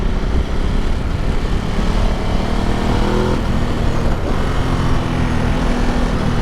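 Ducati Multistrada motorcycle engine droning steadily and loud, with throttle blips and a brief rise in revs partway through, heard over rushing wind while riding.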